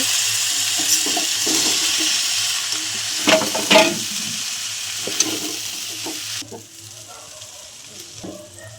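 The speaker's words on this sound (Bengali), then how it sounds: "ভালো করে নেড়ে নেব" Potatoes, carrots and broccoli sizzle steadily in a pan for chow mein as a spatula stirs them with a few close scrapes and clacks, and the sizzle drops sharply near the end.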